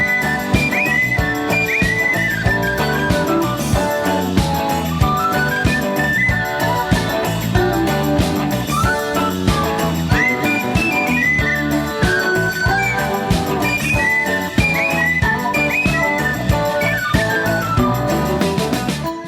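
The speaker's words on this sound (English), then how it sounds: "After the penny whistle solo," A penny whistle plays a lively solo in a song, bright ornamented melodic runs repeating over a full band accompaniment throughout.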